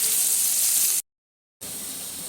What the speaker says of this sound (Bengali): এবার ভাজতে থাকবো